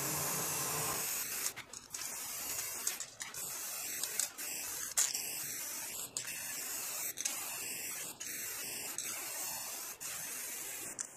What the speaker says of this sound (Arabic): همشي على اللزق بتاعي رشه خفيفه كده بالسبراي.